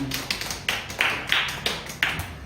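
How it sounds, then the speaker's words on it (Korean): A handful of scattered hand claps from a church congregation greeting a gift presented to a young graduate, quiet and irregular, about seven soft slaps over a couple of seconds. "박수 한번 주세요."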